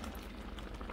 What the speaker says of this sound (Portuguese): vai ferver agora, vai dissolver essa calda